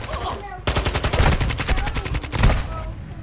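Rapid bursts of Call of Duty: Modern Warfare 2 gunfire in ranked play, loud and close, with a sustained automatic volley and sharp repeated shots.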